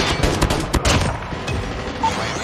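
Rapid automatic gunfire in Call of Duty on a highrise map, a dense burst of overlapping shots with mechanical clatter, loud and close, fading slightly toward the end.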